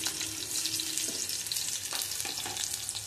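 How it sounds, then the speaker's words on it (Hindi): Onions and green chillies fry in mustard oil in a kadai for kundru bhujiya, a soft, steady crackling sizzle with a few faint stirring clinks, no voices. "कढ़ाई में डाल दिया है हमने मस्टर्ड ऑयल। तो सबसे पहले हम डाल देंगे प्याज और मिर्ची को"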